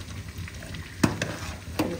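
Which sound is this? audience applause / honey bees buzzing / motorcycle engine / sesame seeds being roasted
sesame seeds being roasted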